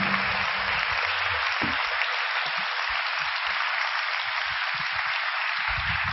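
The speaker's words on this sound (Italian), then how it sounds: "gli farei un grandissimo applauso." Steady, loud applause from an audience at an event honouring someone turning 80, a sustained clapping wash with brief low voices and thumps underneath.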